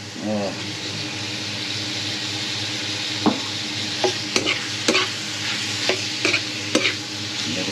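Pork frying in a pan with steady loud sizzling throughout, broken by several sharp scrapes and knocks of a utensil stirring, with no talk.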